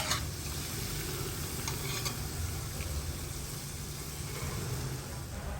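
Banana jamun balls made from wheat flour dough deep-frying in hot oil, giving a steady, dense sizzle with a faint stirring clatter near the start, continuous and close with no voices.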